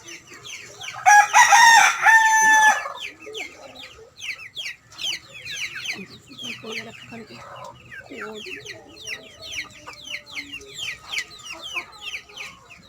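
A rooster crows loudly up close, followed by steady clucking and chattering from several chickens throughout.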